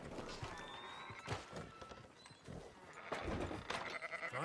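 Sheep bleating in Red Dead Redemption 2: several wavering, nasal calls that come and go over a busy farmyard background, with some talk mixed in.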